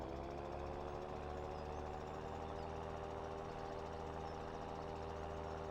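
A small tractor idles steadily in the Farming Simulator 17 video game, a continuous low engine rumble that stays even and unbroken throughout, with no voices over it.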